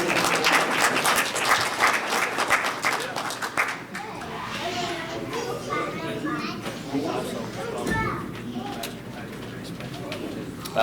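Crowd at a racing awards gathering clapping, loud at first and then thinning out to scattered claps, with voices and bird coos mixed in the background.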